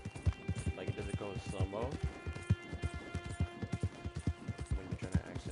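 Rhythmic hoofbeats of a horse galloping nonstop in Red Dead Redemption 2 online, a steady clip-clop under someone talking casually over it.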